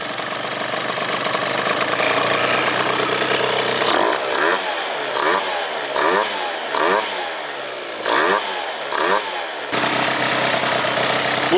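A Phantom F12 scooter with a 70cc Stage6 engine runs up close and loud, a steady raspy drone that pulses into a repeated rhythmic surging in the middle before settling back to an even roar.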